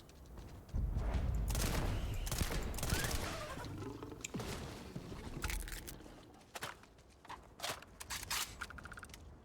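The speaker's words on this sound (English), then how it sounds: "Let's get the shotguns out." Shotgun fire in the space game Starfield, a dense, loud stretch of rapid blasts and crashing impacts that thins into scattered sharp shots and clatters toward the end.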